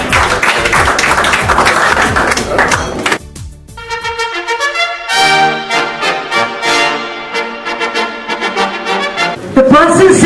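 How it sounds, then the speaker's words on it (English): A school audience at a Sherwood and All Saints event claps loudly for a guest coming on stage. The dense applause lasts about three seconds, then gives way to upbeat music. "A huge round of applause."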